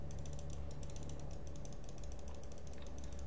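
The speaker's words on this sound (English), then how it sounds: "Sorry if you can hear my clicking and it's annoying" Rapid mouse clicking during a Cookie Clicker session, a steady stream of small clicks over a constant low hum, close and fairly quiet, with no talk.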